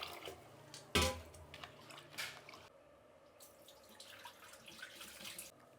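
Soaked grains for ragi idli are rinsed by hand in a kitchen vessel, with quiet splashes, drips and trickling water, one sharper slosh near the start, then soft intermittent pouring and swirling.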